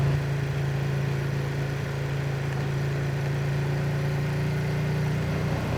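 A 2023 Ducati Streetfighter V2 in Storm Green sits with its twin-cylinder engine running, a steady close low drone with a constant hum throughout and no speech over it.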